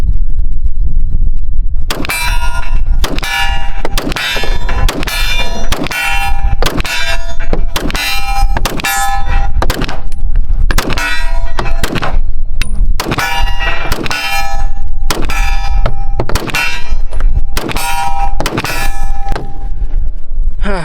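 Rapid, loud gunfire with steel targets ringing after each shot, a steady string of sharp reports and metallic clangs close by on a shooting range, with no talking.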